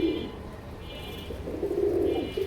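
Pakistani-breed pigeons coo close by in two soft, throaty bursts, one at the start and a longer one near the end, over a low, steady background hum.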